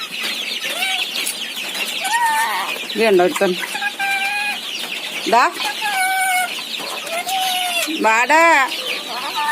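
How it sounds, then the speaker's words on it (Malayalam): Young chickens cluck and chirp busily nearby in repeated, overlapping calls while a person talks over them. "അന്ന് കൊണ്ടുവന്ന കോഴിക്കുഞ്ഞുങ്ങളാണ് കേട്ടത്."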